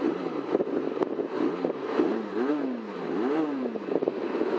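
A parallel-twin adventure motorcycle engine revs in quick, rising bursts, the pitch climbing and falling several times in a fast rhythm, close and moderately loud with a clattery mechanical edge.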